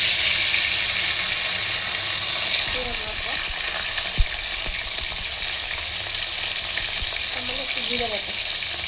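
Hot oil sizzles steadily in a kadai as hilsa fish and its stalks fry, with a continuous crackling hiss and occasional soft stirring clinks.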